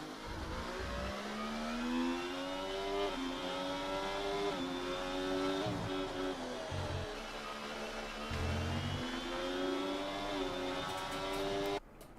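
Race cars lapping the Singapore circuit in a racing game, a close, loud engine wail with strong rising and falling harmonics, repeated upshifts and throttle lifts, ending abruptly.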